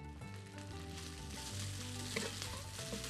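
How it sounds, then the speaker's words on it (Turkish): Rice mixture with chopped mixed peppers sautéing in a pan for a bulgur stuffed chicken dish, giving a steady, close, loud sizzle and frying hiss with light stirring scrapes throughout, no talking. "Biberle beraber tekrardan kavurmaya devam ediyoruz"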